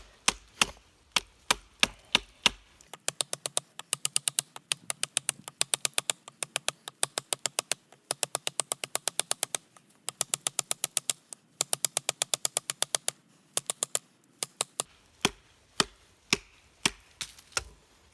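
Rapid, regular knocks of a knife blade striking wood come in quick bursts, slower isolated chops at the start and end, close and crisp; an Alonzo Tracker knife under a hard-use test.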